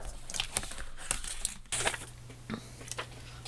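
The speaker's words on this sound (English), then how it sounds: "So I'm going to cut it very quickly." Printed paper being cut quickly by hand with scissors, giving several short crisp snips and crinkles close by, with a low hum underneath and no talking.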